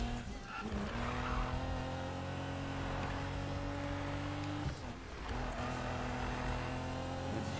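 Racing car engine roars steadily with a loud sustained drone and long tire-squealing skids in the Need for Speed video game, with brief dips in the noise, and no talk.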